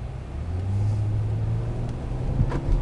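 A 2005 Chrysler 300 Touring with a 3.5 V6 accelerates on the road, its low engine rumble swelling and holding steady for a brief stretch, heard from inside.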